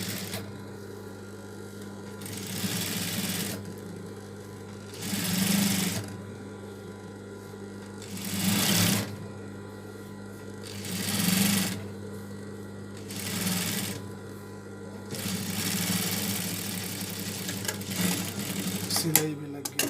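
A sewing machine stitches a toddler's baby suit in bursts of steady mechanical whirring, each run lasting a second or two and separated by quieter pauses, with a constant low hum underneath.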